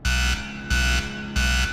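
A microwave buzzer alarm sounds three times in a steady rhythm, each loud electronic buzz lasting about a third of a second with a short gap between, close and alone with no voices.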